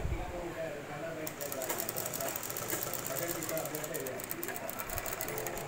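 Sewing machine stitching a kinari border onto a blouse piece, a steady, rapid mechanical whirring and clatter that runs continuously, close by and fairly quiet, with some talking over it.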